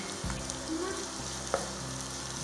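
Crushed garlic and ginger frying in a pan, a steady sizzle with a soft stirring scrape and one sharp clink of a utensil partway through, close and moderately quiet, no talk.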